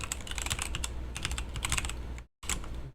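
Rapid typing on a computer keyboard, close and steady with dense clicking keystrokes, a brief silent gap near the end, then more typing.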